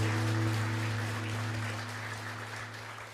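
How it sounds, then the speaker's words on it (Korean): Applause from a church congregation during a Sunday worship service, a steady wash of clapping that slowly fades, with a sustained organ-like tone held underneath. "감사의 박수로 영광의 박수로 올려드립니다"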